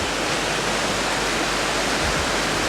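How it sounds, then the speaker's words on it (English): Waterfall pouring steadily, a dense, even rushing roar that holds close and loud throughout, with no voices. "It's a really nice waterfall."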